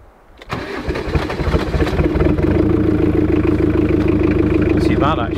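A diesel 4WD engine cold-starts in deep snow and freezing conditions after its glow plugs warm, cranking briefly then catching into a steady, loud, close idle that runs to the end.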